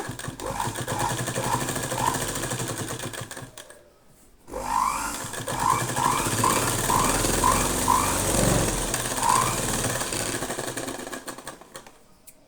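A sewing machine stitching a blouse runs in short rattling bursts, stops for a moment around four seconds, then starts up again and keeps running steadily.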